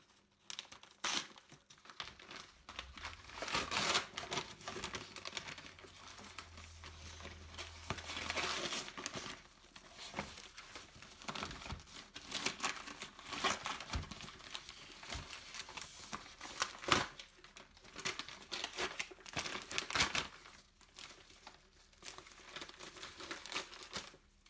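A well-wrapped eBay parcel being opened, with packaging crinkling and tearing close by in repeated bursts and rustles over about twenty seconds, with no talking.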